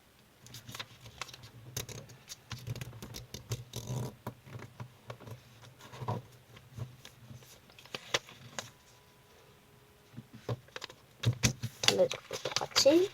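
Paper being creased and folded into an origami jumping frog, with crisp crackles, taps and rustles at close range coming in uneven bursts over a steady low hum, busiest near the end.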